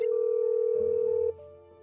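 A single steady electronic phone tone rings in a Nancy Drew game while calling Ned, holding level for over a second before cutting off abruptly into quiet hum.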